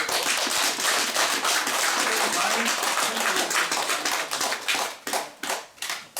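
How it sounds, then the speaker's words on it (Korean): A lecture-room audience at a cultural heritage society meeting breaks into loud, dense applause. It starts full and close, then thins into scattered individual claps toward the end. "이종훈 회장님, 서상수 회장님, 신정남 사무처장 우리 큰 박수 한번 더 보내고"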